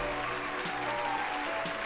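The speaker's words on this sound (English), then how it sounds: "Cue the applause for me real quick." A canned applause sound effect, a steady wash of clapping over about two seconds, played in a horror podcast intro with no talk over it.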